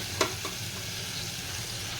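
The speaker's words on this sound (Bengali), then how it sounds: "এখানে মশলাটা ভাজা ভাজা হয়ে গেছে আর বেশি ভাজবো না তাহলে তিতো হয়ে যাবে" Spices frying in oil in a pan, a steady close sizzle with a soft scrape or two near the start, no voices.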